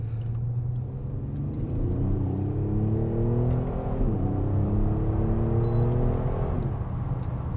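Kia Stinger GT, 2022, accelerating hard, a close steady engine rumble whose pitch climbs through gear shifts with a brief drop midway, heard from inside the car.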